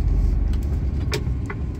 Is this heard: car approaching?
yes